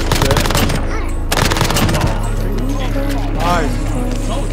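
Rapid gunshots in a shooter video game, a fast rattling volley up front then scattered shots, loud and close over a steady background music bed, with a voice talking through it.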